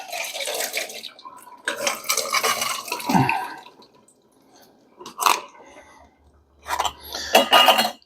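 Juice draining from a can of French style green beans in a kitchen, bursts of splashing liquid and clinking against the sink or pot, separated by quiet gaps.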